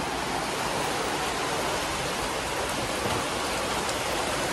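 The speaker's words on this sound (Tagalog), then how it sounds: "malakas ng ulan" Heavy rain pours down at midnight in a dense, constant hiss, loud and unbroken, with no voices.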